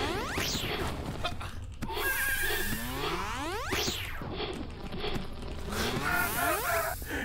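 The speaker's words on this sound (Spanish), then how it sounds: "El sonido de los disparos me hace bastante gracia" Cartoonish, springy gunshot effects from an indie video game repeat in quick succession with sweeping whooshes, steady and upfront over a background music bed.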